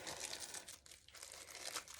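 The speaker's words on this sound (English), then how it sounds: "So you're just going to rip these bad boys open." Plastic packaging ripped open and crinkled by hand, a continuous crackling rustle, close and fairly faint with no voices.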